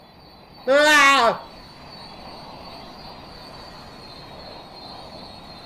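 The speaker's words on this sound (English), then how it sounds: "There is a train coming at me." A Long Island Rail Road train in an underground station gives a brief, loud, high-pitched wheel squeal lasting under a second, then a steady low rumble. A voice exclaims over the squeal.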